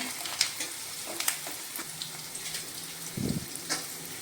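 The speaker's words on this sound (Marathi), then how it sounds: "आता त्याच्यामध्ये मी टाकते थोडेसे शेंगदाणे" Peanuts roasting with onion in a pan for rava upma, a soft steady sizzle with a few light stirring scrapes, close and low, alone without talk.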